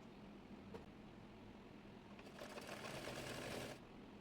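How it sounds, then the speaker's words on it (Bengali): A sewing machine runs a short burst while stitching the folded sleeve cuff of a baby top made from fabric scraps, a steady mechanical whir over a quiet room after a faint click. "প্রথমে হাতার মোহরির দিকে মুড়িয়ে সেলাই করে নেব।"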